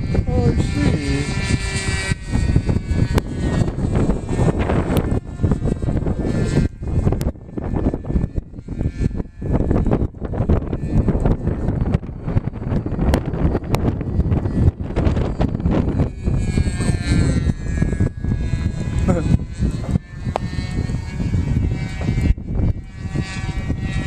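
Strong wind blowing outdoors, a loud buffeting rush hitting the microphone in continuous gusts and roars, with voices faintly talking underneath.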